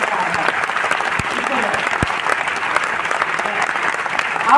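Sustained audience applause fills the room at a success celebration event, a steady dense patter of many hands clapping close by, with faint voices mixed underneath.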